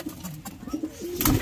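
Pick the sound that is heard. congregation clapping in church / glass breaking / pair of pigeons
pair of pigeons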